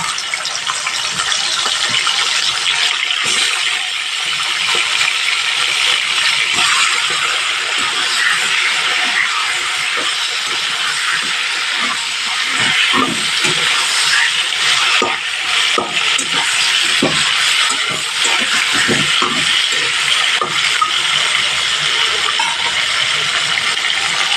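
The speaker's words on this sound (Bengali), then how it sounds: "এইভাবে চিকেনগুলো ভেজে" Chicken pieces fry in a pan over a medium gas flame, a loud, dense, steady sizzle and crackle that fills the whole stretch, with scattered sharper pops and no speech.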